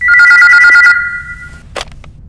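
A telephone rings loudly and close with a rapid trilling bell for about a second, then its tone trails off, followed by a brief clatter.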